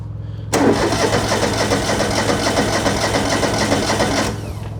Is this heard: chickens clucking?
no